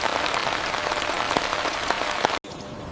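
Steady rain falls on mint fields as an even, dense hiss of drops with no voices, cut off abruptly for a split second near the end before resuming.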